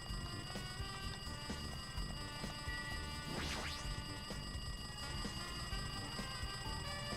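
A telephone rings steadily inside the video game Danganronpa 2: Goodbye Despair, a continuous electronic ringing tone that holds throughout at moderate loudness, with no voices over it.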